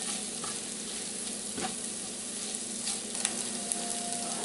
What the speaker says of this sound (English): We're still going at it, cooking the veggies down.